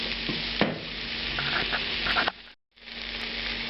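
Celery and other vegetables sizzle steadily in a pan for jambalaya, with stirring scrapes and clinks. The sound cuts out briefly, then the frying continues.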